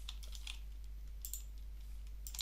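Quick, light keystrokes on a computer keyboard at close range, a few scattered taps as code is entered, faint over a steady low electrical hum, with no talk.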